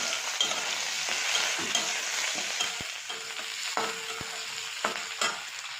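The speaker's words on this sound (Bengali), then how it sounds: "পেঁয়াজটা হালকা ভাজা হয়ে গেলে টমেটোটা দিয়ে দেবো" Onion and tomato frying in a pan with steady sizzle and repeated stirring scrapes, close and fairly loud, no voices.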